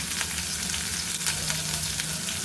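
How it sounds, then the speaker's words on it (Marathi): Mustard seeds, chili paste and curry leaves sizzle in hot oil over a low flame, giving an even, fairly soft frying hiss with faint crackles and a low steady hum underneath. "थोडीशी मोहरी आणि जे आपण वाटण केलं आहे ते घ्यायचं आहे गॅस बारीक करायचं आणि त्याच्यामध्ये आपल्याला कडीपत्त्याची पानं"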